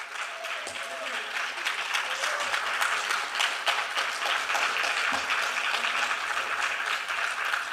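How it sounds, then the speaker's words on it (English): Steady audience applause fills the room for the dancer Anvi at her Bharatanatyam arangetram, a dense, even clatter of many hands lasting throughout with scattered voices underneath. "let's just start with a round of applause for Anvi"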